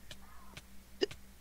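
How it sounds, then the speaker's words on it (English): A man gives a single short hiccup during a Minecraft gaming session. It is a quiet, close, sharp vocal hic with soft breathy sounds around it and no speech over it. "Oh, I got the hiccups."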